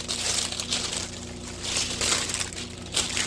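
Plastic shrink wrap crinkling and crackling around a Mother's Day gift tray, a continuous close rustle with bursts of sharper crackle, over a low steady fan hum.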